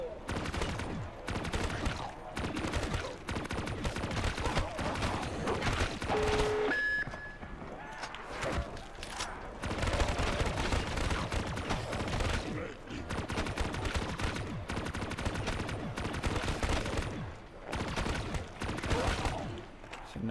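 Dense, continuous gunfire from pack-a-punched weapons in a zombies video game, rapid bursts overlapping with a few electronic beeps, loud and sustained throughout with a voice occasionally underneath.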